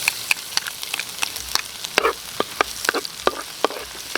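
Garlic and onion sautéing in a pan for pork bones in oyster sauce, a soft steady sizzle punctuated by sharp clicks and taps of a spatula against the pan, close up with no talk.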